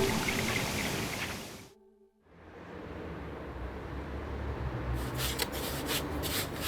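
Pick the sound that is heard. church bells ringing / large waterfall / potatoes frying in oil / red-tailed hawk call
large waterfall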